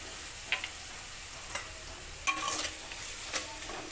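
Spices and dried chili paste frying in a pan for a soybean curry, with a steady low sizzle broken by a few sharp scraping stir strokes and clinks, close and fairly quiet, no talking.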